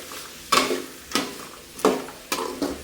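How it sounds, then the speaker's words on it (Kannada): Carrots and beans fry in oil in a pan, with four sharp stirring scrapes and sizzling bursts at regular intervals over a low background hiss. "ಕ್ಯಾರೆಟು ಹುರುಳಿಕಾಯಿ ಇದನ್ನು ಚೆನ್ನಾಗಿ ಎಣ್ಣೆನಲ್ಲಿ ಫ್ರೈ ಮಾಡ್ಕೋಬೇಕು"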